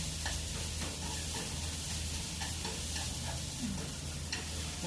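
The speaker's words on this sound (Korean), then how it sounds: "오징어가 완전히 익을 때까지 계속 볶아주세요" Squid and onion stir-frying in a pan for a Korean spicy squid dish, a dense constant sizzle with quick repeated spatula scrapes and tosses, near and steady, with no voices.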